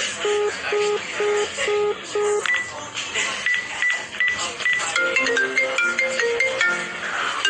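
A phone ringtone chirps in short repeated beeps, then a melodic electronic tune plays on, loud over a busy background with some movement.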